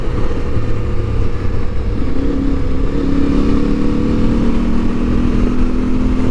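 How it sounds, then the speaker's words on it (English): An Aprilia Tuareg 660 motorcycle engine drones steadily while riding, its pitch rising slowly as it picks up speed, with wind rush around it. "Oh, I do love this motorcycle."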